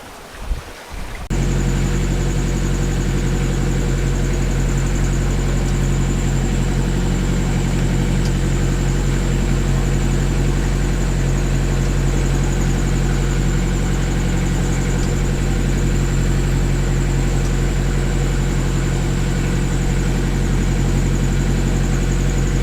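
A boat engine runs under way on the boat Flapdoodle, a steady loud drone that starts after a brief rustle and holds unchanged for over twenty seconds, with no voices.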